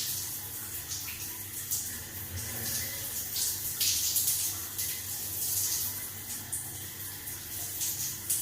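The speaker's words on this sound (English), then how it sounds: "I'm gonna rinse my hair using a very mild shampoo" Water runs steadily from a tap or shower while hair is rinsed with a mild shampoo, a continuous broadband hiss with small splashy variations and no talking.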